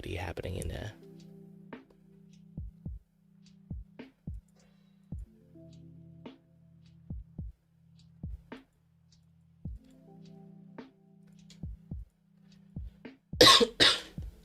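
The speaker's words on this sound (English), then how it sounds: "a little bit coughing" A few sharp coughs spaced out over a quiet stretch with soft ticking, then a louder burst of coughing near the end.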